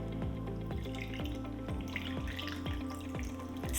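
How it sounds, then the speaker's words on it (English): A classic margarita with ice poured into a glass, a steady liquid stream with rhythmic glugging pulses and light ice clinks, close and fairly quiet, with no voices. "and then we pour a drink"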